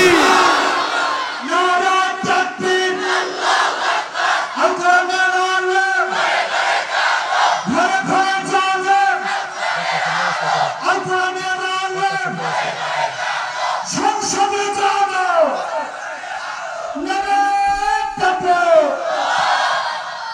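A large crowd at a religious rally chants the takbir in loud, repeated roaring bursts, one collective shout every couple of seconds, answering a leader's call, close and dense throughout.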